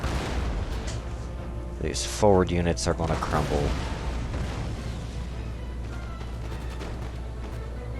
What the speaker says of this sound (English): They cannot withstand all of the cannons that I have.